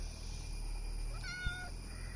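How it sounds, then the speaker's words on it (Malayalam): A domestic cat meows once, a short rising-and-falling cry near the middle, over a steady low indoor hum with no talking. "നോക്കടാ, നോക്കിയടാ പൂച്ചമണി"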